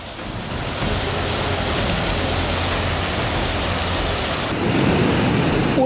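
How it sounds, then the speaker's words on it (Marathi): Heavy monsoon rain with thunder in Pune district, Maharashtra: a steady, loud roar of downpour with low rumbling thunder beneath, continuous throughout. "पुणे जिल्ह्यातही मुसळधार पाऊस बरसतोय."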